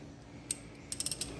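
Spring compressor tool being released on a Can-Am Outlander XT ATV shock during replacement, giving one sharp metallic click followed by a quick run of ratcheting clicks, close and fairly quiet.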